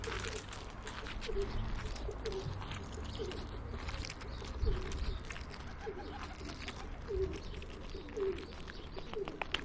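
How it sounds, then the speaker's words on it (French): Pigeons coo softly and repeatedly in the background, low rhythmic calls recurring every second or two amid outdoor ambience and faint chirps. "Il y a plein de pigeons autour de moi."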